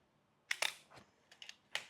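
Mechanical clicks from a Pentax Spotmatic SLR as the shutter button is pressed: a sharp double snap of mirror and shutter, then a softer thud and a few lighter clicks close by in a quiet room.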